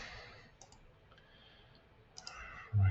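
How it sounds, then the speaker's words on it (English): Faint computer mouse clicks, a few soft isolated taps spread across a quiet room with low background hiss while setting up view sheets for a concrete building model. "Right, clicking again there."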